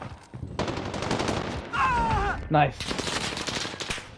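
Rapid bursts of gunfire ring out in the shooter game Warzone, close and loud, with voices exclaiming between the shots.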